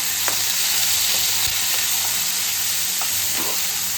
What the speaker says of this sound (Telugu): కొంచెం అంతా అల్లం గడ్డ పేస్ట్ వేసేసి కొంచెం దాన్ని అట్లా కలుపుకోవాలి